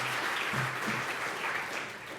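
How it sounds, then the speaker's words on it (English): Audience applause at a hemp industry summit, steady dense clapping from a crowd filling the whole moment, with a faint voice murmuring underneath. "Ladies and gents, round of applause."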